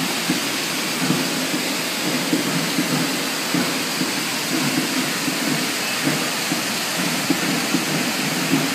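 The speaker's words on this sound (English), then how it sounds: "It's raining. Check how hard this rain is." Heavy rain pours steadily in Panama, a dense, loud, continuous hiss with faint rumbling underneath and no speech.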